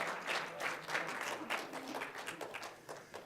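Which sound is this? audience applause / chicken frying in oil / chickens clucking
audience applause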